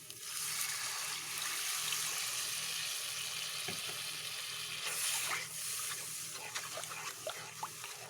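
Water is poured into a frying karimeen fish curry, keeping up a steady bubbling sizzle, with a few light clinks and scrapes of stirring near the end.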